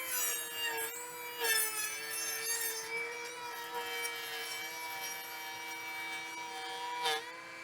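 Saw cutting wood for a raised vegetable garden bed, a shallow 3/4-inch-deep cut, giving a continuous whining, rasping tone with sharp onsets at the start and near the end, close and unaccompanied by speech.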